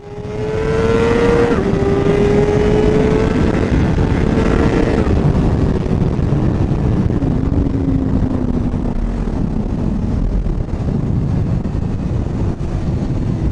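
A vehicle running low on gas drives steadily through a forest, its engine a loud continuous drone with a slowly drifting pitch and a rough low rumble throughout.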